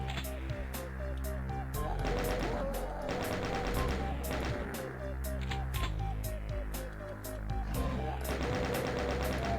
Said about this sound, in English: Nasty chain gunner up there.